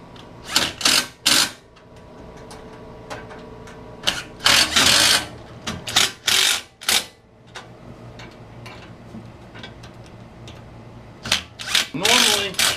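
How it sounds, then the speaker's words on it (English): Impact wrench driving bolts while installing an Armor Tech safari rack on a Polaris 900/570, heard as repeated loud rattling bursts of a second or so, close up, with brief pauses between them. "we'll take our 7/16 wrench, our impact, and we can go and tighten these all the way down"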